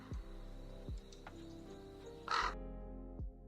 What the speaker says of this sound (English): He's a loud crow.